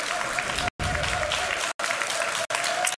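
A large crowd at a gaming tournament applauds and cheers loudly and steadily, with brief cuts of silence breaking the sustained roar.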